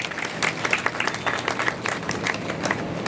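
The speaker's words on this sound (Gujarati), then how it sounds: "આપણે પહેલા એમના જોરદાર તાળીઓથી અભિનંદન આપીએ" Loud, dense applause from an audience honouring police staff at a property-return ceremony at Kalol taluka police station. The clapping is continuous and close, with many hands beating at once.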